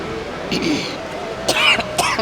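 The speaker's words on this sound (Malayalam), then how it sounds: "ചുമ വരിക." A few short coughs or throat-clearing bursts close by, with a voice murmuring underneath.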